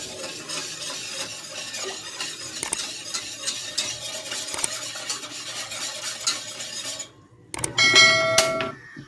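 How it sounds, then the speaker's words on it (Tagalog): A spoon stirs gelatin and sugar steadily around a metal pot, scraping and clinking continuously, with a few sharper clangs near the end. "Haluin ko."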